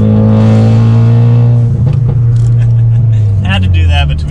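A Ford Focus RS engine idles with a deep, loud rumble, then blips in a short rev. The car is close, and the sound echoes off nearby brick walls, with talk over part of it.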